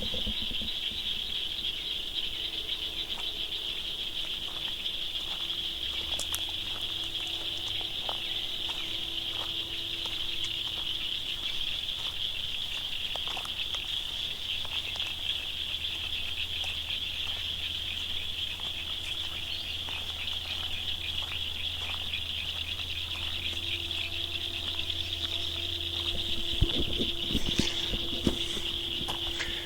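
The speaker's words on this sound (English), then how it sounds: "That's the sound of frogs hanging out in that murk." Frogs call from a murky pond beside a trail at Mormon Pioneer Trail Park, a steady high chorus running the whole time with faint outdoor background and a few soft knocks near the end.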